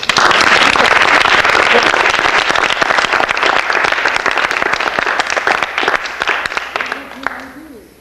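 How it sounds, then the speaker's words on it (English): A mime class audience applauds Marcel Marceau with loud, crowded clapping that starts at full strength, then slowly thins into scattered claps before fading out. "Applause."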